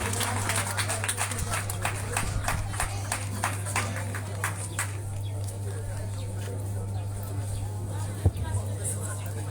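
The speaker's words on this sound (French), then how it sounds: "On applaudit très fort, chers amis." Audience applause at a building inauguration ceremony, crisp rapid clapping for about five seconds that thins out, over a constant low electrical hum.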